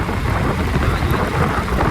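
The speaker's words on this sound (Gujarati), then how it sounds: "વરસાદ ચાલુ થઈ ગયો છે જો તમે જોઈ શકો છો" Steady, loud rain falls with deep rolls of thunder rumbling underneath, a dense continuous wash of storm noise with no voices.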